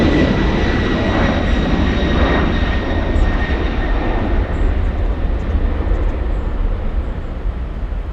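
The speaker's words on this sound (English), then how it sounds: "from one LATAM 787 Dreamliner to another. The Southside takeoff going to Sao Paulo, Brazil." A LATAM Boeing 787 Dreamliner jet taking off from the south side at LAX, bound for Sao Paulo, gives a loud, steady engine roar with a broad rumble and faint whine, sustained throughout.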